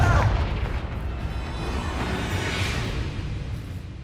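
A Confringo fire spell in Hogwarts Legacy bursts in a loud, deep boom at the start, then a rumbling fiery roar and whoosh that fades over a few seconds.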